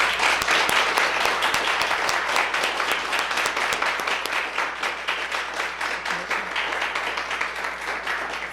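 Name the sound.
applause, audience clapping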